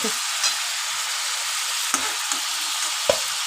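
Chicken pieces sizzle in hot oil with a steady bright crackle while they are lifted out one at a time, bringing a few soft clinks and spoon scrapes close up.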